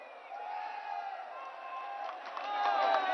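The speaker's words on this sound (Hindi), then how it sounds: "जोरदार तालियां हमारे माननीय प्रधानमंत्री जी के लिए" Crowd applauding and cheering for Prime Minister Modi at a public event in Haldwani, a steady dense wash of clapping that swells louder toward the end, with no clear speech over it.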